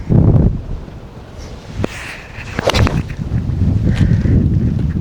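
Wind gusting across an open golf course, a steady low roar of buffeting on the microphone that swells and stays loud throughout, with a few brief sharper sounds mixed in.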